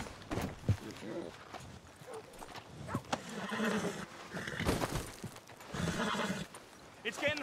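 A horse whinnies and its hooves clip-clop in the Red Dead Redemption 2 video game, heard in short bursts under and between frequent voices talking.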